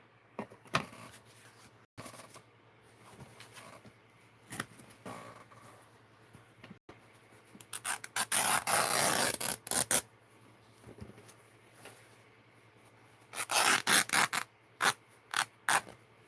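Paper is torn by hand for an art journal, with scattered soft rips building to two louder ripping bursts near the end, close and quiet otherwise, with no talking.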